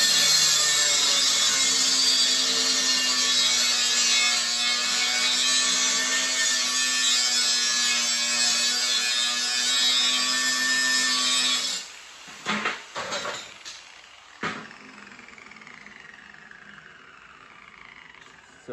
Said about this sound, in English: So with a grinder and a piece of steel, I'm just going to start